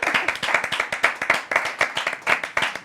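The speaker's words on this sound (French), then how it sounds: "Allez, on applaudit." A small live audience at a magic show claps for a volunteer, sharp distinct hand claps in a quick uneven rhythm, close and fairly loud.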